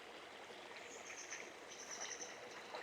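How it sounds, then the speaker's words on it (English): Clean water flows over a small rock drop beside a trail, making a faint, steady stream trickle with a soft hiss that holds evenly throughout, heard alone without voices. "It's a nice little bit of flowing water there, flowing over that rock."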